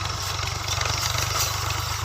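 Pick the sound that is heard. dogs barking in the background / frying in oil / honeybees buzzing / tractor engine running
tractor engine running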